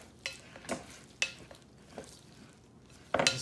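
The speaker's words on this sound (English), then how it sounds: "I'm going to use my wooden spoon so I can turn this over" A wooden spoon turns a loaded tater tot mixture in a pan, several separate scraping strokes and soft knocks spaced out, ending in a louder clatter, close and without talk.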